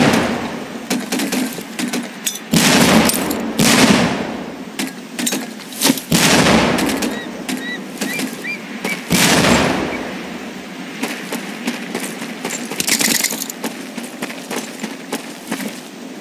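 Training grenades going off during boot camp in Medal of Honor Pacific Assault, a series of heavy broadband blasts at irregular intervals with rumbling decay between them, loud and without speech.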